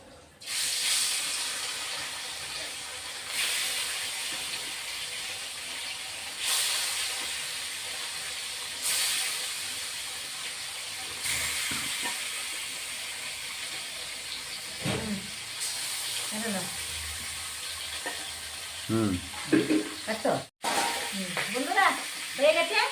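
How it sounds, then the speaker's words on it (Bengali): Pieces of katla fish fry in hot oil with a continuous loud sizzle and hiss, joined later by clinking, scraping turns of a utensil in the pan. "মাছ ভাজা আমার হয়ে গেছে"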